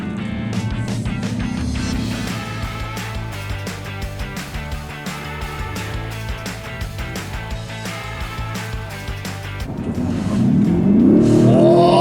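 BMW V8 car engine revving loud and close, a deep throbbing rumble that holds steady before swelling into a harder rising rev near the end.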